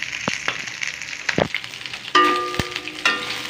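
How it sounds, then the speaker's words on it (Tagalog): Hotdogs and longganisa fry in a pan for breakfast, giving a soft steady sizzle with a few sharp clinks and bright ringing taps near the end. "ipiprito muna mga kawaray para matoasted po siya"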